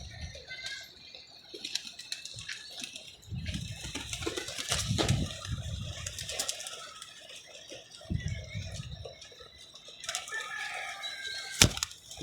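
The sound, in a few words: pigeon flapping its wings in a net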